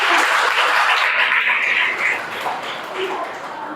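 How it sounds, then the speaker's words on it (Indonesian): A class of students claps together in a classroom, a dense burst of applause that holds steady and then thins out over a few seconds. "Selamat, tepuk tangan dulu buat kalian ya."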